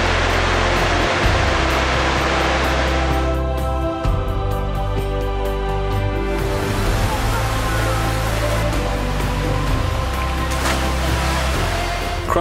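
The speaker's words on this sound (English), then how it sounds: "Iguazu Falls is the best waterfall in the world, hands down." Iguazu Falls roars as a constant broad rush of falling water, loud and unbroken throughout, with a faint steady hum beneath.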